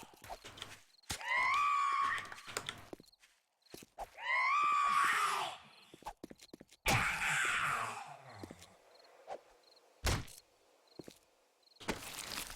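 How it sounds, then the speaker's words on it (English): A zombie in the video game 7 Days to Die lets out several shrill, wavering screams in separate bursts, with quiet gaps and a few thuds between them. "she screams a few times, the next thing you know, you got more zombies than you can deal with"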